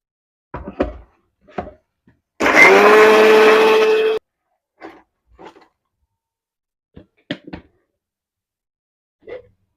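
A mixer grinder blending custard apple pulp with milk runs in one loud, close burst of about two seconds, surrounded by faint clicks and handling taps before and after.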